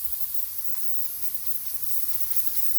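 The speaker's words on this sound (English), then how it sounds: "I'm running lacquer thinner through it" A steady, close hiss of lacquer thinner spraying from a spray gun nozzle, airy and even throughout with no talking.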